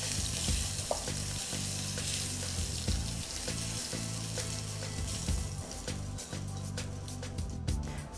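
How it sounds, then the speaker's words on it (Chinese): Ginger and garlic paste sizzles steadily in hot oil, a continuous bright frying hiss with occasional stirring scrapes and clinks, close and fairly loud, no voices. "我们就把刚才的姜蒜泥加进去爆香"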